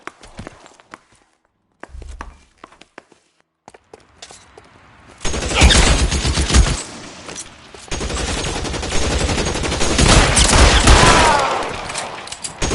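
Loud, dense gunfire in the L.A. Noire video game: scattered clicks and footsteps, then sustained overlapping shots and bursts that fill the scene for several seconds.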